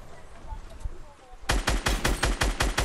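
Fortnite gunfire: after a quieter stretch of faint background and a voice, a rapid burst of loud automatic shots fires in an even rhythm, close up.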